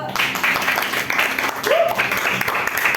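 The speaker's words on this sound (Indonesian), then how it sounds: "Tepuk tangan dulu" Applause from a group fills the room, steady clapping throughout with voices mixed in underneath.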